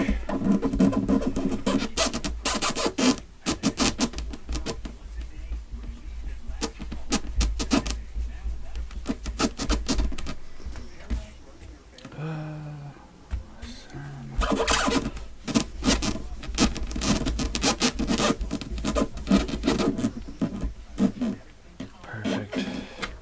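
Sanding and rubbing the wood of a Martin 000-18 acoustic guitar against a pad, a steady dense scratching that runs nearly the whole time, briefly easing midway, up close and fairly loud with no speech over it.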